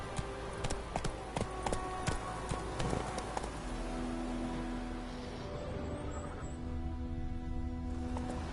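A horse galloping in the video game Witcher 3, rapid rhythmic hoofbeats close by for the first few seconds, then easing off into a quieter ambient hum.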